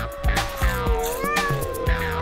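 A hungry house cat meows repeatedly and insistently, with several drawn-out, wavering cries close to the listener, heard alone with no talking.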